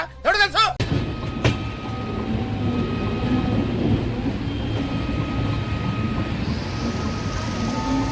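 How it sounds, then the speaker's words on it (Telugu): A weekly express train to Nanded pulls out of Warangal station, giving a steady low rumble and rolling noise heard from on board, with a brief voice at the very start and a faint metallic click. "వరంగల్ రైల్వే స్టేషన్ నుంచి బయలుదేరిపోయాం"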